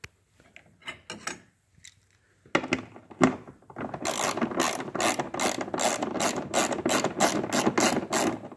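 A ratchet with a 10mm socket loosens a drain plug on a Taurus SHO 6F55 transmission. A few separate clicks come first, then a fast, steady run of close, loud ratcheting clicks.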